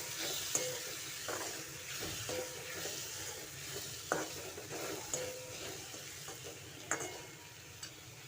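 Prawn curry is stirred in a pan, soft scraping strokes and light clicks of the spoon over a low, quiet sizzle, with no talking.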